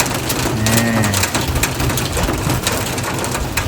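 Rain falls outdoors in a steady, dense patter, a loud, even hiss that holds for the full length with no voices.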